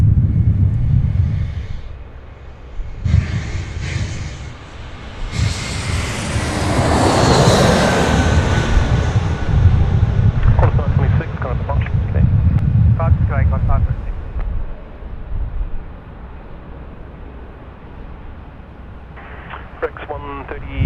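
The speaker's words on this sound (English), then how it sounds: "Next in to land here is Jetstar 520 A321" A Jetstar A321 airliner landing at Sydney Airport rises into a loud roaring jet rumble that peaks and then fades. Wind buffets the microphone, and someone talks over parts of it.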